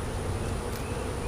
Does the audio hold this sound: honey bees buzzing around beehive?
yes